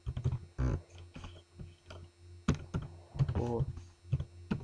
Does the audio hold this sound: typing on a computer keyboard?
yes